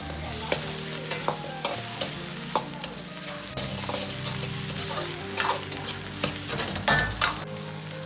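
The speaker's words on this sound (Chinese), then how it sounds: "放入适量的郫县豆瓣酱，炒出颜色，炒出香味" Pixian chili bean paste stir-fried in a hot wok for green pepper chicken gives a steady close sizzle, broken by regular clacks and scrapes of the spatula throughout.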